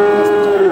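A Sahiwal-breed bull calf at a rural cattle market gives one short, loud, close moo, a steady low drawn-out call lasting under a second.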